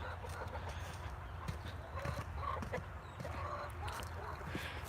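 Chickens on a small farm cluck and murmur now and then, moderately close, over a steady outdoor background with some faint birdsong.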